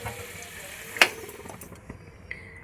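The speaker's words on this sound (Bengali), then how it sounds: "আলু লাল লাল করে ভাজা হয়ে গেছে" Potatoes fry in oil with turmeric and salt, a low, steady sizzle with soft stirring and one sharp utensil clink near the middle.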